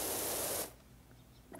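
A video-game pressure washer sprays in a loud, steady hiss that cuts off abruptly partway through, leaving quiet room tone with a faint noise at the end.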